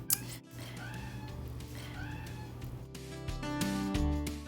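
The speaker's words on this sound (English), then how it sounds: "You probably hear my kitty in the background." A pet cat meows in the background, two faint drawn-out cries at a distance over a low steady hum.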